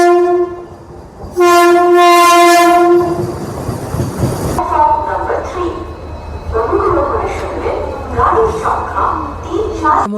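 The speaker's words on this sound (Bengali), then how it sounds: "ডায়মন্ড এক্সপ্রেস 10 মিনিট দেরি করে এলো বর্ধমান জংশনে।" The Black Diamond Express (22387) pulls into Bardhaman Junction with a long, loud blast of its horn, then rumbling wheels and clattering carriages with squealing brakes, while people talk on the platform.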